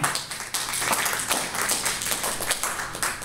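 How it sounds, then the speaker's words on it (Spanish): A church congregation claps together in a dense, steady burst of applause that carries on for several seconds without speech. "Un fuerte aplauso al hermano."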